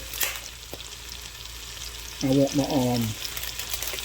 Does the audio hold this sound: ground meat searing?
yes